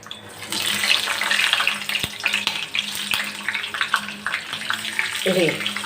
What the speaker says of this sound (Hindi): अब मैंने ये तेल गर्म हो गया, अब मैं इसमें ये डाल रही हूँ मिर्चें